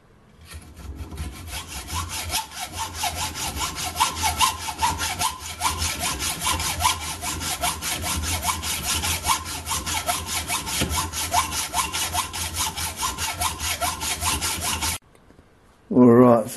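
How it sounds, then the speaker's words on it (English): A hacksaw rasps back and forth through a homemade metal split collet in quick, even strokes that run loud and close for about fifteen seconds before stopping, followed by a short separate noise. "Back to the hacksaw."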